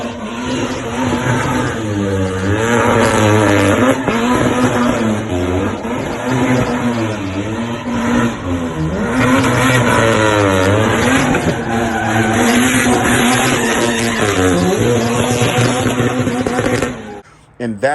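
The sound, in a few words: turbocharged car engine stuttering from oil-fouled spark plugs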